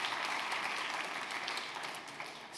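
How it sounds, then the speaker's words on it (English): Audience applause at a circular economy festival panel in Munich, dense, continuous clapping from a crowd, fairly soft and fading slightly near the end. "Your applause."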